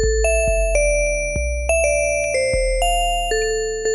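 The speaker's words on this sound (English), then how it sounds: "the next thing I want to add is some bell tones that sounds a little bit like this." Bright synthesized bell tones play a simple counter melody in a music production session, adding high end over a sustained low bass; struck notes ring out one after another at a steady pace, loud and clear with no voices.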